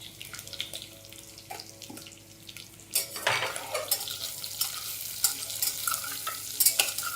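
Chopped onion pieces hit hot oil for a paneer biryani and are stirred, a soft kitchen hum giving way to a louder, crackling sizzle with scraping stirs and clinks.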